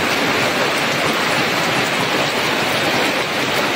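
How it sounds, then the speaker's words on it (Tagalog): Steady, dense hiss of heavy rain pouring down, loud and continuous with no breaks, like a downpour close by. "Ulan dito."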